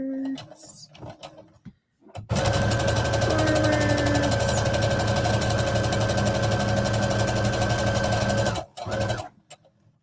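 A domestic sewing machine runs in one long steady whirring burst of rapid stitching, close and loud, with brief pauses and soft handling noise before and after.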